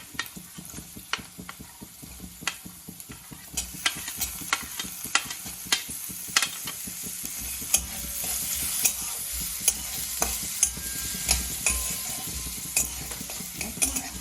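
Tomato and onion frying in a pan for a Bengali flattened-rice pulao, a steady close sizzle with frequent sharp spoon-on-pan scrapes and taps as the mixture is stirred, no talk.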